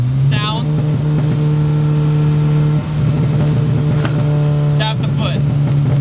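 A modified VW Golf race car with a 2.0-litre engine holds a loud, close, droning rev with a strong steady tone, briefly dipping twice before returning to the same pitch.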